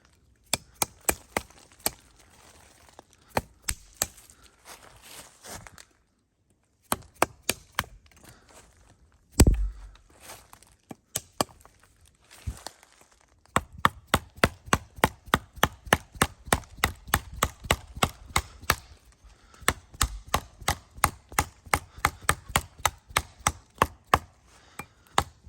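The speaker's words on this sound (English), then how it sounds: "I'm gonna take off some of the small branches here on this down tree." A Tops Woodcraft knife chops small branches off a fallen tree outdoors, giving sharp, close wooden knocks. They come in scattered groups, then settle into a long steady run of regular strikes, with no talk.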